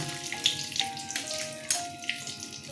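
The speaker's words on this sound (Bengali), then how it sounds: "আমি এবার কাঁচা লঙ্কা, মেথি আর মৌরি ফোড়নে দিয়ে দিলাম" Green chili, fenugreek and fennel seeds hit hot oil left from frying katla fish, giving a steady close sizzle broken by sharp crackling pops.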